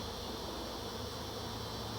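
Rescued honeybees buzzing in a hive box on the ground, a close, dense steady hum with no voices.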